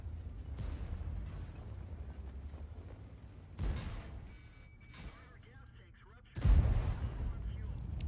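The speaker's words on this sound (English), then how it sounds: "the spot that I'm in leaves me pretty well open to getting shot by artillery" Artillery and tank fire in World of Tanks, with a steady engine rumble broken by two heavy booming blasts, the second the loudest, while someone talks over it.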